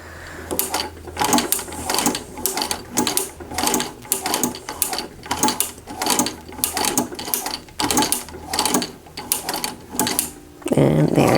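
Sewing machine fitted with a ruffler attachment, its mechanism turned slowly by hand, producing a steady series of repeated clunking mechanical strokes about once a second, close and moderately loud, with a brief voice at the end.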